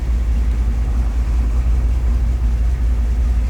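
A Chevy 350 V8 with low oil pressure idles steadily on a hot, muggy day, a deep, even rumble close by with no revving and no voices.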